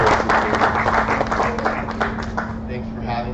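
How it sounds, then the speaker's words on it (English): An audience at an entertainment and stage conference applauds a welcomed speaker, dense steady clapping that begins loud and gradually thins out toward the end, with a faint steady hum running underneath. "Give him a big round of applause."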